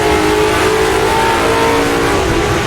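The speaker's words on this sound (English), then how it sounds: "Really to the top of the rev range, back to second gear" A car engine screaming near the top of its rev range in a racing video game, loud and sustained with a high mechanical whine that shifts pitch slightly throughout.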